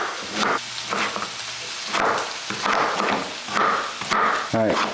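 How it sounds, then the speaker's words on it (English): A knife chops through beets on a cutting board during borscht prep: a series of irregular, fairly close thuds and cuts with brief pauses between strokes, over a light kitchen background. "So I'm going to chop the rest of these beets."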